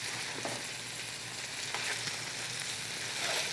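Food sizzles and caramelizes steadily in a hot pan on raised heat, a continuous close hiss of frying with faint stirring sounds and no talking.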